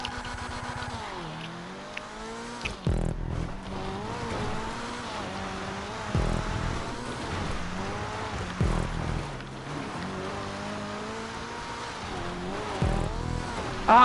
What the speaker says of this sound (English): Drifting! We're all drifting.